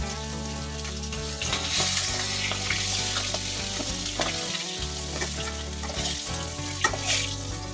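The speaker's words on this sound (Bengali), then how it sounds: "মাছগুলি কিন্তু ভাজা হয়ে গেছে আমার মাছগুলিকে আমি এক এক করে নামিয়ে নেব" Katla fish pieces fry in hot oil, a loud, dense sizzle and crackle sustained throughout, with a brief break midway as pieces are lifted out and occasional clinks of a utensil.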